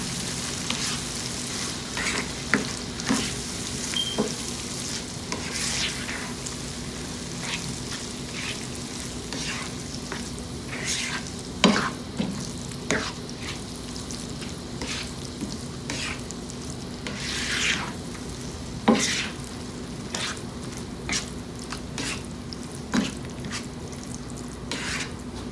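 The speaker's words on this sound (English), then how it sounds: "you can see that bhaji boil very good" Pav bhaji bubbles and sizzles in a pan, a constant crackling hiss punctuated by regular scraping and tapping as it is stirred, close by with no voices.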